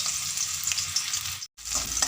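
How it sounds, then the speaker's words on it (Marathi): Finely chopped onion dropped into hot oil in a kadhai, crackling and sizzling loudly up close with stirring scrapes and a brief break in the sound. "तेल गरम झालेलं आहे आता एक बारीक चिरून कांदा टाकायचा"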